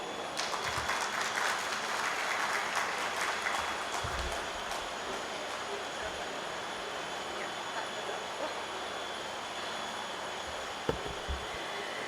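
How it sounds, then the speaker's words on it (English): Sustained applause from a seminar audience for a presenter on continuous pharmaceutical manufacturing, a steady even roar of many clapping hands with no talk over it. "let us give him a huge round of applause"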